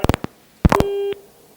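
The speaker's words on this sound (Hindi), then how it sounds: "नेहा जी आपका फोन कट गया" A phone line drops during a Hindi television debate. Short electronic beeps sound first, then a brief, steady disconnect tone lasts about half a second, fairly loud, with no talking over it.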